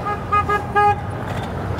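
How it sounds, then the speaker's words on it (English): Horn honks from an electric go-kart being driven fast on public roads, two or three short bright toots in quick succession over steady road and wind noise. "It's a happy honk."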